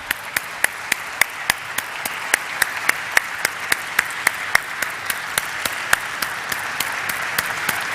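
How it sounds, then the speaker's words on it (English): Continuous clapping at the Flair Writing Industries Limited listing ceremony, a crowd's even applause with one close, loud clapper striking a steady, regular beat above it throughout. "Well, the claps should go on."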